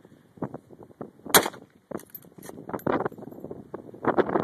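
A Mossberg 464 lever-action 30-30 rifle fires outdoors, producing one sharp, loud report among scattered clatter and rustling handling noises.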